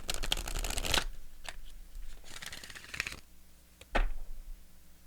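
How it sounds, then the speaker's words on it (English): A spirit messages oracle card deck is shuffled close up in several quick riffling bursts with short pauses between them, crisp papery flutters and no talking. "I'm going to pull some oracle cards."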